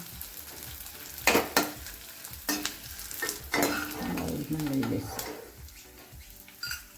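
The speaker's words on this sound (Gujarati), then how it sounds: "તેને આ રીતે ઘીમાં તળી નાખશું।" Edible gum frying in hot ghee for churma ladoo, a strong sizzle and bubbling with scraping stirs and a few utensil knocks against the pan, close and fairly loud.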